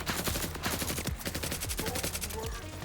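Rapid automatic gunfire from shooters in a video game, dense repeated shots rattling continuously and loudly throughout with no pause.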